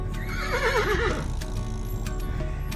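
Several horses whinny and neigh in wavering, drawn-out calls over the first second and a half, close and fairly loud above steady outdoor background noise, with a few short knocks afterward.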